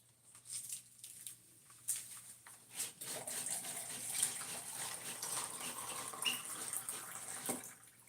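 Water pours and patters steadily onto soil while indoor garden plants are watered, a soft continuous splashing with no talk.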